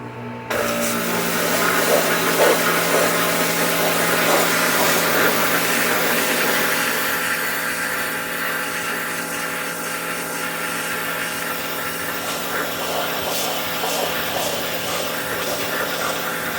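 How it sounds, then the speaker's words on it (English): A pressure washer sprays an AR-15 rifle, giving a steady, loud hiss and rush of water that starts abruptly and keeps going without a break, with no voices. "I'm pressure washing an AR."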